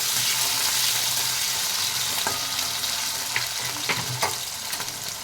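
Small-cut potato pieces frying in a pan, a steady close sizzle with scraping stir sounds and a few sharper clinks near the end, no voices.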